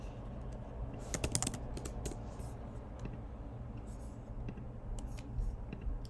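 Typing on a computer keyboard, a quiet, irregular patter of key clicks that comes in clusters, with a low steady background hum behind it.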